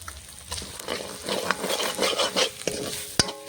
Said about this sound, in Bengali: আর একটু আদাটা কষিয়ে মশলাটা কষিয়ে